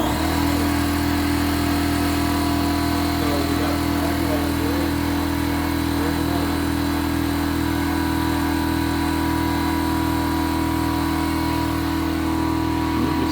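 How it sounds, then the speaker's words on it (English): An air compressor drives a homemade automotive smoke machine, giving a loud, steady mechanical drone with a fast pulsing thump that runs unbroken throughout. "we're going to turn the compressor on"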